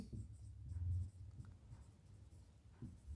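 A pen scratches steadily across paper while an ordinary differential equations exercise is worked out, a soft close sound of continuous writing with no voices.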